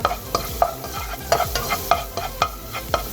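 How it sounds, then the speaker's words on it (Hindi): Crushed ginger sautéing in a pan for strawberry chutney, with a steady sizzle and a regular rhythm of close, distinct stirring scrapes throughout. "इसको सौते करेंगे हल्का सा, क्योंकि चटनी में ना अदरक ज़रूर जाती है"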